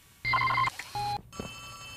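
An electronic telephone rings twice inside the horror video game Poppy Playtime Chapter 3, two sharp bursts of a warbling tone separated by a short pause, followed by a quieter electronic chime.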